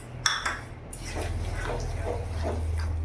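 A spoon scraping and clinking in a pot as sugar is stirred into a raw mango mixture, opening with a couple of sharp metal taps and then a steady, rhythmic wet stirring.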